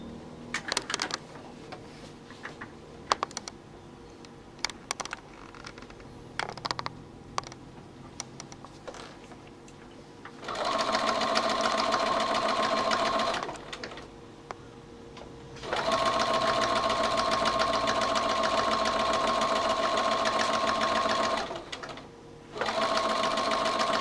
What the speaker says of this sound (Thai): เย็บล็อกอีกครั้งหนึ่ง